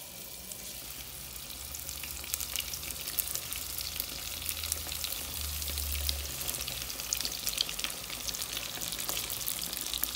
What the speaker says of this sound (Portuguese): vou jogar mais aqui pra fritar